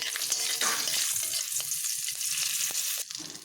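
A green chilli and panch phoron spices hit hot oil left from frying potatoes, giving a loud, dense crackling sizzle with a few sharp pops, close by and fading slightly at the end.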